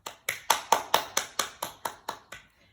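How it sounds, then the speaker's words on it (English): Rhythmic clapping for children at a school Reception and KS1 celebration gathering: about ten crisp, evenly spaced claps, close by, that gradually fade away. "Let's give those children a clap."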